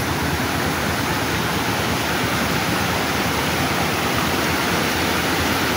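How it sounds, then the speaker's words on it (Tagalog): A small mini waterfall roars steadily up close, a dense, unbroken rush of falling water with no pauses or voices. "may natagpuan kami ditong mini falls"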